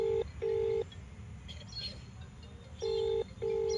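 Four electronic keypad tones as a phone number is dialed, two quick beeps, a pause with faint background noise, then two more beeps.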